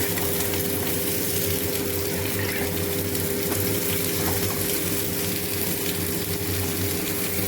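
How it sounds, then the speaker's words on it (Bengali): Potatoes fry in a pan of oil with a steady, even sizzling hiss that runs unbroken throughout, moderately close and free of speech. "আর এই যে আমার ছেলে এদিকে আলু ভাজছে"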